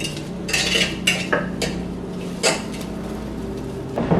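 Biryani stirred in a pot, with scattered metallic scrapes and clanks of a ladle against the vessel, a few sharper knocks in between and quiet gaps, nearby and without talk.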